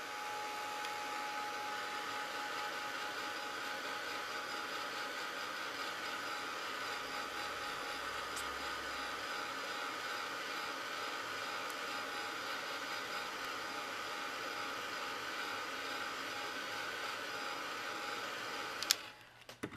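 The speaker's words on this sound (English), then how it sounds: "for the first coat, you have to dry off as much as possible" A hair dryer runs steadily and close for a long stretch, drying the first coat of paint on leaves, its continuous whooshing hum alone until it cuts off with a few handling bumps at the end.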